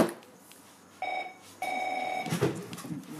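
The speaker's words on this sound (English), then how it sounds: "And that's the house phone ringing" A house telephone rings indoors in two trilling bursts separated by a short pause, clear and moderately loud over a quiet room.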